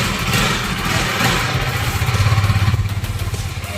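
A new KTM motorcycle idling close by, its engine throbbing in a steady, rapid pulsing rhythm that grows slightly louder and more even as it runs.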